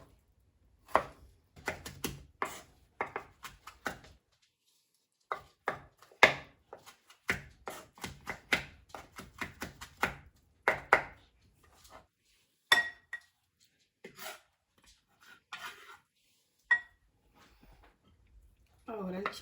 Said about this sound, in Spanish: Voy a picar primero el tomate.